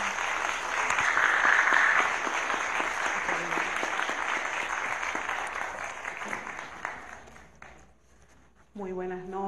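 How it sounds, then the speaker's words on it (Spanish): Audience applause at an evening gala of a world poetry festival, a sustained wash of clapping from a crowd that swells early, then fades out before a voice begins speaking at the end. "Con un abrazo y un aplauso, bienvenida Jimena Benítez al Festival Mundial de Poesía."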